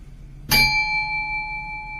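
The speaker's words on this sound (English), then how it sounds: "When I hit the bell, release." A single bell struck once during a guided breathing exercise, a sharp metallic strike followed by a clear, steady ringing tone that sustains and slowly fades, alone in a quiet room.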